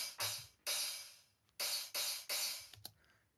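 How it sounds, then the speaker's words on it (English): Crash cymbal hits in an EDM anthem-section production: four bright, washy crashes ring out loud and decay over about three seconds, separated by short gaps, with a low punchy kick thumping under some of them. "Crash one."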